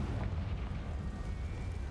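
A Confringo explosion spell in Hogwarts Legacy, heard as a dense, sustained low rumbling blast that fills the clip with steady, moderately loud roaring noise.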